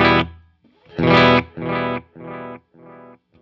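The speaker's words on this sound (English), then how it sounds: "So here's the El Capitan." Electric guitar played through an El Capitan delay pedal into a Suhr Bella amp, with a short picked phrase followed by four distorted chord repeats that fade step by step, each quieter than the last.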